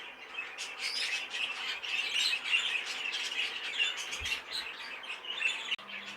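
A cinnamon cobalt budgerigar cock chirps and squawks rapidly and continuously, close and clear, its bright chatter running the whole time.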